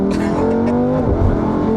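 A Lamborghini Huracan EVO RWD's mid-mounted V10 revs loud and close, its harmonic roar holding steady, then dipping and swelling again.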